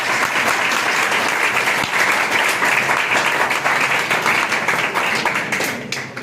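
An audience gives dense, steady applause to welcome a newly selected candidate at a gathering. The clapping is loud and sustained throughout, with no speech over it.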